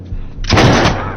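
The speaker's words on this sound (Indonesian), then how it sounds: "ternyata itu adalah tembakan dari Nicholas yang sudah sampai di sana" A sudden loud gunshot blast in an action film, with a sharp crack and brief booming tail, close and dominant.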